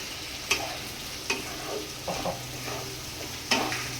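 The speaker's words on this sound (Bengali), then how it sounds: "চিংড়ি মাছটা দিয়েও আমি একটুখানি নাড়াচাড়া দিয়ে নেবো" Fried prawns being stirred with sugar in a pan for a cabbage dish, a few sharp spatula scrapes spaced apart over a quiet, soft sizzle.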